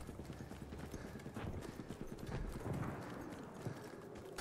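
Horse hooves clip-clop at a gallop in the Battlefield 1 video game, with a rapid, steady rhythm close by over busy battle noise and a brief whinny.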